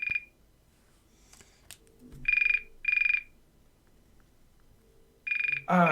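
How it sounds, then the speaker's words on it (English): A phone rings in bursts in a tabletop role-playing game of Paranoia, short electronic trills repeating with gaps between them, fairly loud over a quiet background with faint low murmur. "Are you going to answer the phone?"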